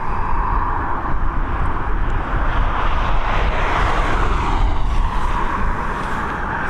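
Engines of a Ryanair airliner roar loudly and close at Dublin Airport as it moves, a steady, dense jet rumble with a swelling whine that rises and falls slightly throughout.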